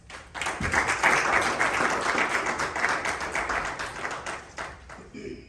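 Audience at an American Premier League cricket event bursts into steady, dense applause lasting several seconds before tapering off at the end.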